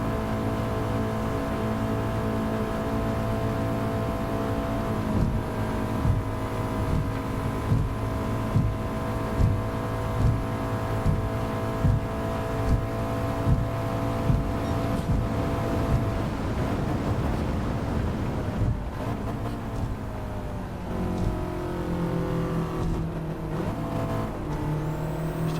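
A Renault R5 race car engine in Gran Turismo 7 drones loudly from on board, holding high revs with rhythmic gear changes and rising and falling pitch through the lap.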